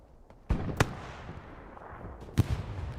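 Rocket launches and blasts in the Hell Let Loose World War II shooter, heard as a few sharp distant booms spread across three seconds, fairly faint over a low rumbling background.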